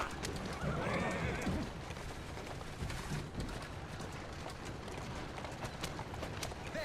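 A horse-drawn carriage rushes along in Assassin's Creed Syndicate, with continuous clattering hooves, a brief horse whinny near the start, and a busy street backdrop over rolling wheels.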